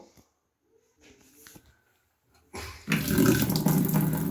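Running water from a tap splashes loudly and steadily as plastic containers are washed with soap powder at night. Faint handling clatter comes first, then the water rushes in and continues to the end.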